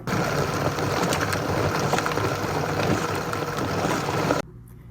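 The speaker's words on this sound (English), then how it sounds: "most high-speed blenders are noisy" A loud, steady whirring roar of a high-speed blender runs without pause for several seconds, then cuts off abruptly near the end.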